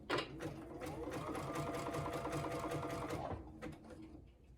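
A sewing machine stitches pieces of scrap batting together without backstitching, its motor whirring steadily and close for about three seconds before stopping.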